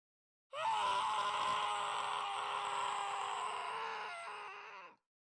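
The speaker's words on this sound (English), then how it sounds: "We heard a scream." A long, sustained scream from the Steins;Gate anime, loud and close, holding steady for about four seconds before cutting off abruptly, with no talk over it.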